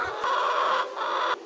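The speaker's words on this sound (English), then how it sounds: "The sound of a laying bird." A laying hen clucks close by in two drawn-out, raspy calls separated by a short pause, with nothing else heard around them.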